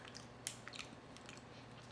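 Quiet, close crunching and chewing of a crunchy keto snack, with a few crisp bites standing out against a soft hum.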